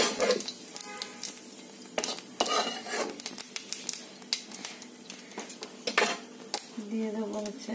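Cumin seeds dropped into hot soybean oil in a wok crackle and spit in short bursts, with metal utensil clinks and scraping stirs between them close by.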